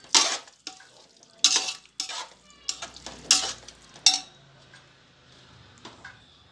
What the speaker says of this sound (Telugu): ఇలా అన్నము మధ్య మధ్యలో ఇలా కొత్తిమీర వేసుకుంటూ కలుపుకోవాలండి